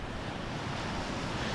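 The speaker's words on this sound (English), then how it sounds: "The waves are so bad that my bait was basically at the shoreline" Rough lake waves wash and thrash against the shoreline at Harrington Lake in the North Maine Woods, a continuous loud churning surf blended with wind noise and no voices.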